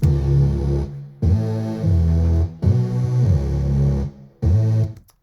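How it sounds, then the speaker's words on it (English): Thick, distorted layered future bass synth bass notes in a repeating pattern, loud and buzzing, with short gaps between phrases and no voices. "So those bass layers together sound like this."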